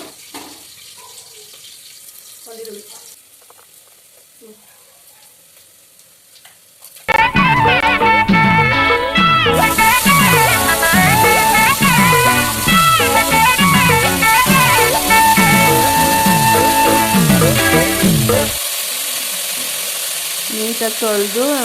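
Chicken pieces dropped into hot tempering oil in a pot, a loud sizzle that bursts in suddenly and holds steady, fading down near the end, with quieter kitchen sounds before it.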